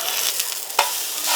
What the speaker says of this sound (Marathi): तव्यावर बॅटर टाकून घेऊया.